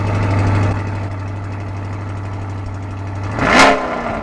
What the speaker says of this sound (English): It has a little 1600 cc engine in it.